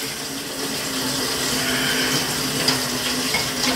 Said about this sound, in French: Fait que je le rince, je le frotte avec mes mains.